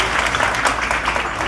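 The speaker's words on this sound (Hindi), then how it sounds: "जोरदार तालियां।" Loud audience applause fills a hall at a gathering where a teacher, now an SDM, is speaking; dense, steady clapping runs throughout with no talk over it.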